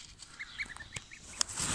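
High, thin honking peeps from goslings, several quick calls close by over a soft background rustle.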